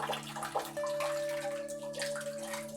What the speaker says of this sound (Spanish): cuando el material esté siendo lavado no salte y no se pierda